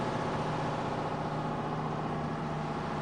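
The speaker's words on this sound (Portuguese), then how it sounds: "Este é o som do Alpha 212, quando utiliza motores convencionais a diesel." The Alpha 212 submarine runs on its conventional diesel engines, giving a steady, droning mechanical hum with a constant tone, even and unchanging throughout.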